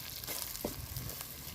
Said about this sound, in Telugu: ఈ కొబ్బరి కారం ఆయిల్లో ఫ్రై అయితే చాలా టేస్టీగా ఉంటుంది.